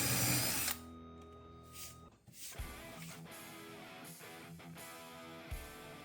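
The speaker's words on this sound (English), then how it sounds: "carefully using my cordless drill, I make the holes, taking care not to tear through the material" A cordless drill boring holes in a craft material, with a high steady whine at the start, then a lower humming run with short pulses and a brief stop, close and fairly quiet.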